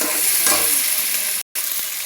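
Meat frying in oil in a pan sizzles with a steady hiss while it is stirred, with a few scraping stirs audible and a brief drop to silence near the end.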